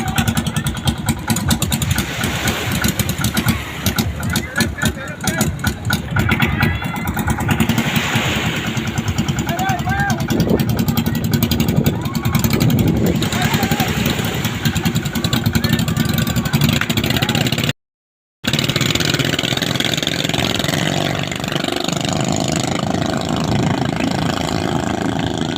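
Roaring motorboat engines in a boat race in San Jose, Antique run steadily and loudly throughout, with a brief dropout near the end and voices talking over the engine noise.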